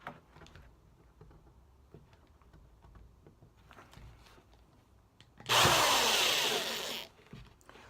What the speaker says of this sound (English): So that's what I'm going to do right now, is drill these pilot holes.